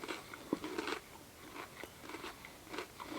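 Crunchy biting and chewing of a crispy, warm, doughy snack eaten at a snowy winter camp, with several close, crisp crunches in an irregular rhythm and no talk.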